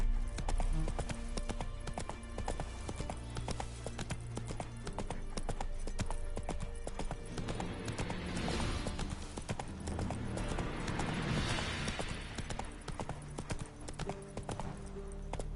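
Roach the horse galloping in the Witcher 3 video game, with continuous rhythmic hoofbeats over a dense loud game soundscape and a brief whinny.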